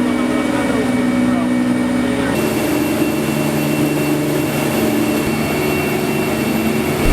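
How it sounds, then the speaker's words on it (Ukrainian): A 34-foot river patrol boat engine drones loud and steady with a jet-like whine, its tone shifting partway through and holding to the end. "Це 34-футовий е, патрульний катер, найдений нам в допомогу від наших партнерів"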